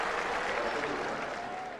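A huge stadium crowd in Toronto roars in sustained applause and cheering after a long home run in a Major League Baseball game, a dense steady wall of sound throughout.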